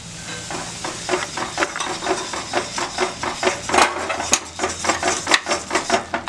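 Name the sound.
hot ghee poured into Mysore pak batter, stirred and sizzling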